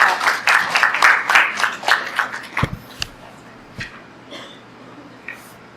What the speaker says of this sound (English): Do we clap for Deb?